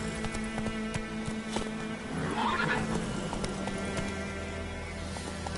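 Roach, the horse in The Witcher 3 on PS4, gallops with quick, steady hoofbeats and gives a clear whinny partway through, all close and continuous with no talk.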